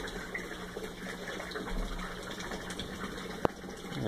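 Water siphoning and draining from an aquaponics grow bed, a steady wet gurgling rush that runs throughout, with one sharp knock near the end.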